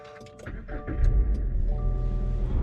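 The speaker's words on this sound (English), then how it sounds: "Alright, let's hear that start up." A Subaru engine fitted with a Perrin pitch stop mount cranks and catches, settling into a steady, close, moderately loud idle after an initial whir and clicks.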